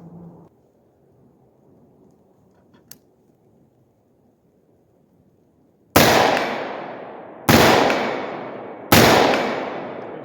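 Three loud 5.56 rifle shots fired through a shielded muzzle brake, evenly spaced about a second and a half apart, each a sharp crack with a long fading outdoor echo, after a quiet stretch.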